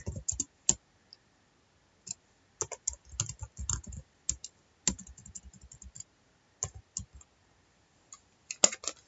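Keys clack on a computer keyboard in short irregular bursts of typing separated by pauses, close and crisp with no talking.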